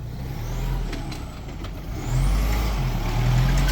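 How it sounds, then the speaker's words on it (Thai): A 2022 Isuzu D-Max 3.0 manual 4x4 single-cab pickup, loaded with palm fruit on a muddy track, strains loudly under a droning engine with a thin rising gearbox whine. "เกียร์ร้อง"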